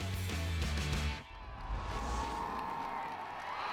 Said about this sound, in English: the crowd is going bananas